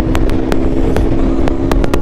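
A KTM RC motorcycle running fast on a highway, a loud, steady engine drone with wind noise and a few sharp clicks, with no break in the sound.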